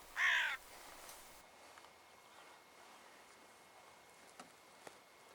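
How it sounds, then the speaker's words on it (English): A single loud, close caw from a hooded crow out in open Highland country, then faint rustling and a couple of small clicks in quiet air. "I've never had as many crows on the ground in front of me"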